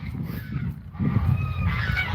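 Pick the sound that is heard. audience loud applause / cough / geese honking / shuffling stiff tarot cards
geese honking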